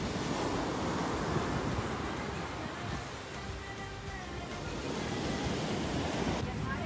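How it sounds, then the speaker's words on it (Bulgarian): Sea waves wash steadily onto the shore at Alanya in May, a continuous broadband rush of surf with wind buffeting the microphone, with no speech. "И така пристигнахме на морето и спряхме за малко да гледаме красивото море."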